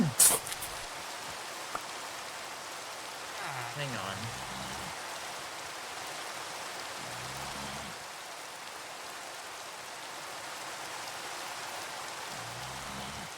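Steady rain in the video game Minecraft, a continuous broadband hiss running the whole time at moderate level, with a brief voice and faint low game sounds over it.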